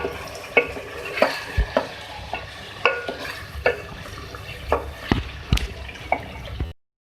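Green chili paste being stirred in a hot pan while cooking a badami chicken white korma, with steady low sizzling and repeated scraping clicks of a spoon every half second or so, close and without talk.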